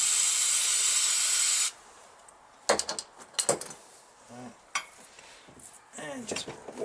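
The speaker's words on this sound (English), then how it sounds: "give it some WD-40 in" An aerosol can of WD-40 sprays in one steady, loud hiss during a motorcycle build, then cuts off, followed by scattered clinks of metal parts and someone talking.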